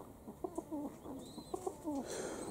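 Pigeons coo softly and sit in a quiet outdoor setting, with faint bird calls off in the distance.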